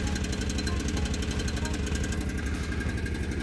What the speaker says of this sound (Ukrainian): Так, Андрій вже завів генератора.